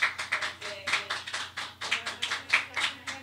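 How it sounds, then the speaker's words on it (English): Audience applause at an e-tribunal and digital justice administration event, sparse and fairly quiet, with a few pairs of hands clapping in a loose, uneven rhythm at middle distance. "So a big round of applause for you all"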